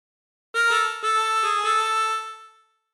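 Family Guy theme phrase on a chromatic harmonica, about five bright reedy notes with crisp attacks, the last held and fading, played alone and close.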